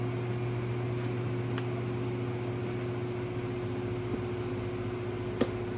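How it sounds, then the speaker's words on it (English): A 2006 Dodge Ram heater fan hums steadily with a constant low drone and broadband airy rush, running evenly throughout with no voices. "Heater just kicked on."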